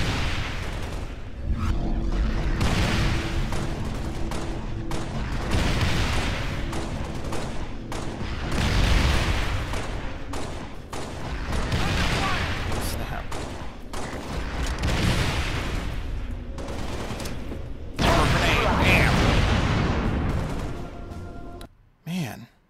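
Gunfire in the video game Halo: Spartan Assault, with bursts of rapid shots and booming blasts repeating across the scene while a player talks over the action.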